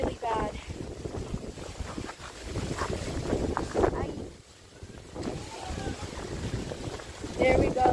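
Wind on a boat ride near Tulum, with buffeting gusts on the microphone and water noise, while people talk over it throughout.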